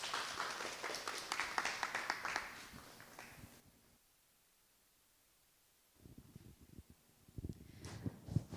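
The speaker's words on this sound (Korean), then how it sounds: "박수로 다 함께 맞아주시면 감사하겠습니다" Audience applause at a Chungnam social innovation and social economy forum welcomes a speaker. Dense clapping fills the first few seconds, then drops to near silence, followed by scattered rustling and handling noises.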